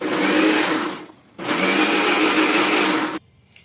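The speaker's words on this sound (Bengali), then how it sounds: "যে অনেকগুলো মশলা পিসতেছি" A spice grinder whirs loudly while grinding coriander, cumin and poppy seeds. It runs in two bursts, the first about a second long, then a brief pause, then a longer run that cuts off sharply.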